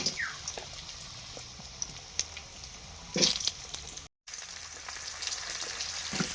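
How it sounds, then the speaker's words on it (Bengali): Potato pieces dropped into hot oil with black cumin for a rohu fish curry, giving a steady close crackling sizzle with occasional sharper pops and one loud burst midway, no voices. "তেল দিয়ে কালো জিরে দিয়ে দিয়েছি, এখানে দিলাম আলু"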